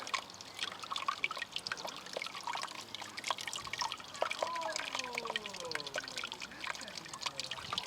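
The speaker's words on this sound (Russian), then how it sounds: "Когда из помпы у нас уже побежала чистая вода" Water from a hose running through the cooling system pump of a Leonart Daytona 125 motorcycle during a flush, trickling and splashing steadily close by, with some gurgling tones and a voice talking over it.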